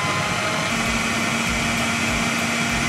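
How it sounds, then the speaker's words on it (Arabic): A food processor grinds onion with a loud, steady motor whir and churning roar that runs without a break from start to finish. "نطحن قوي البصله"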